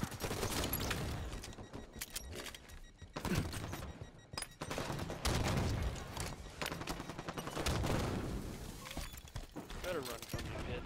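Rapid bursts of automatic gunfire and fusillades crackle in a Halo 5 multiplayer capture-the-flag match, loud and nearly continuous with short pauses, while game voice lines and talk sound over the shooting.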